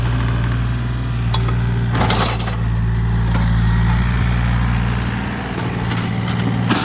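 A Takeuchi TB235 compact excavator runs with a steady, loud engine drone while its tracks turn one way and then the other, adding faint clanks and squeaks over the hum.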